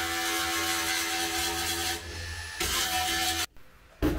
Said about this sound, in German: Die alten Schweißpunkte noch wegschleifen.